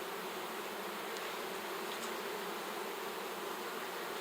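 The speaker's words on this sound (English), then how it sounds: "A lot of these bees that are hanging out here are nurse bees, meaning that they're just going to stay with the brood." Honey bees, many of them nurse bees, buzzing around an opened hive during an inspection, a steady, faint, dense hum that carries on without a break and with no talk.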